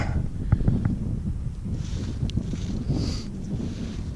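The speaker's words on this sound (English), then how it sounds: "Apologize for the wind. We live in Idaho." Wind gusts across an open Idaho field where young pea plants are sprouting, producing a steady, loud low rumble and buffeting against the microphone with no voices.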